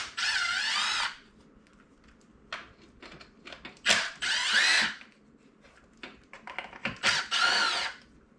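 Socket tool working the bolts on the plastic engine cover of a Nissan X-Trail T30, heard as three or four loud whirring bursts, each a second or so long, separated by quieter clicks and handling noises.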